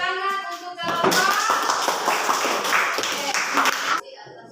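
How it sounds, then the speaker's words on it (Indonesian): A classroom group of student teachers claps for their fellow group, a burst of brisk clapping lasting about three seconds that rises after a spoken voice and stops abruptly. "Sekarang dari tepuk tangan untuk kelompok"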